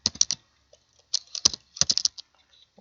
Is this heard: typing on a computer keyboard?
yes